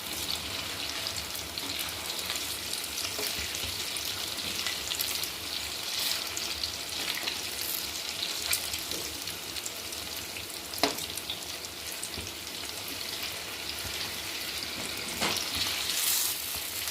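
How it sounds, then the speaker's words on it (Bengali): Flattened rice pakoras deep-frying in hot oil give a steady, dense sizzle with fine crackles throughout, close and continuous without pause. "এবার এটা ভাজতে দিয়ে দিয়েছি।"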